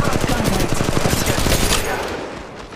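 Rapid automatic gunfire in Apex Legends rattles in a dense, loud burst, then tails off with a fading echo.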